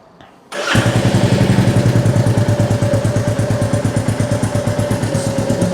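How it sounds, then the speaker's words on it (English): A Royal Enfield Classic 350 single-cylinder motorcycle starts after a brief crank, then idles loud and close with a steady, even thumping beat that continues alone. "So now we'll switch it back on and we'll see what it's doing."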